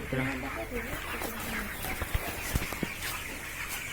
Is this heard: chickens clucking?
yes